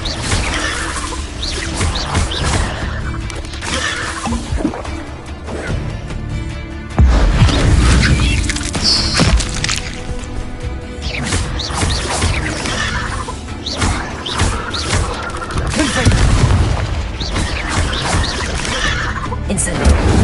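A Confringo explosive spell blasts out during Hogwarts Legacy combat, a loud burst landing amid a dense wash of crashes, whooshes and other spell effects, with a game voice briefly speaking over the busy mix.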